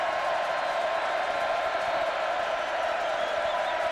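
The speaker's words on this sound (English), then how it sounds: "Every other person decked in maroon cheering on the defense" A football stadium crowd at a 2002 Oklahoma versus Texas A&M game roars steadily for the defense, a dense, continuous wash of cheering with no distinct voices standing out.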